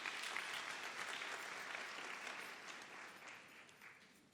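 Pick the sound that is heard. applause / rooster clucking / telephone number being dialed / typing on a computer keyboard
applause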